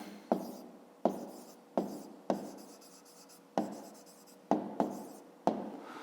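Pen strokes on a school notebook during a maths exercise come in eight quick scratchy bursts, each sharp at the start and fading, close and clear with no voices.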